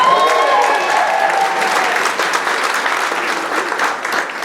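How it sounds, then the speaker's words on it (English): Loud applause from a comedy show audience in a theatre, steady close clapping throughout, with a few voices calling out at the start before the clapping carries on alone. "Can we give her a round of applause?"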